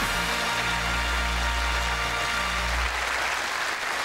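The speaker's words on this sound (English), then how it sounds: "Let's give him a big cheer." A studio audience on a TV game show applauds and cheers, a loud, dense burst of clapping over a sustained musical tone, fading slightly toward the end with no talk.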